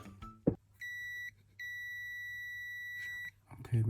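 A multimeter's continuity tester gives two steady electronic beeps while headphones are being repaired, a short tone followed by a longer sustained one, set against faint handling noise.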